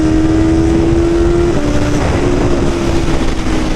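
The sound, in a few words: BMW motorcycle engine revving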